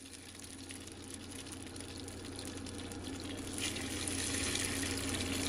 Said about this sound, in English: I'm gonna start adding my meat to the pan.